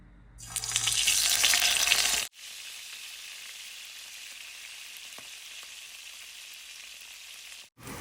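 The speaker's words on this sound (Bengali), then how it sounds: "এখানে আমি অলরেডি তেল দিয়েছি এখন আমি মাছগুলো দিয়ে দিব" Fish pieces hitting hot oil burst into a loud, spitting sizzle for about two seconds, then settle into a steady, quieter frying hiss that continues to the end, close by with no voices.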